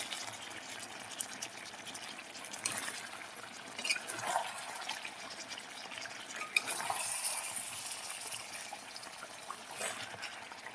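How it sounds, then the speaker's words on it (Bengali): Cauliflower stirred and sautéed with beef and potatoes in a pan, a steady soft sizzle with scraping spoon strokes and occasional clinks, fairly quiet and close with no talking. "ফুলকপিটা দেওয়ার পরেও আমি আরও কিছুক্ষণ 10 মিনিট আমি কষিয়ে নেব"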